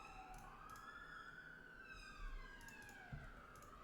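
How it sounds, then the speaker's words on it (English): A wailing emergency siren sweeps up and down as it passes a flat near a large hospital, heard through an open window, fairly distant and steady over low traffic rumble. "Sorry if you can hear that siren. I live right by the biggest hospital for miles"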